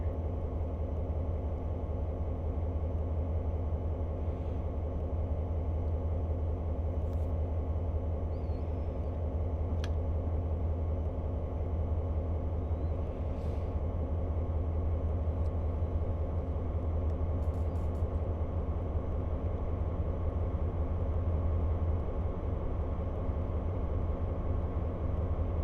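An EMD SD40-2 diesel locomotive in Train Simulator 2019 on the Hudson Line hauling a CSX freight, its engine a steady, heavy low rumble and drone with no speech over it.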